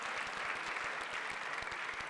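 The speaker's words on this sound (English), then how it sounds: "will all of you please stand for a very well-deserved round of applause?" A school audience stands and gives a round of applause at a high school Teacher Education Academy announcement, a steady, fairly faint wash of clapping with soft low thumps mixed in.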